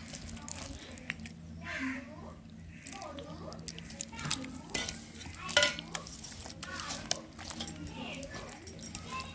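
Chopped onion is mixed by hand for an onion pakoda batter, producing soft, irregular squelching and stirring sounds close by, with someone talking throughout and occasional clinks of utensils.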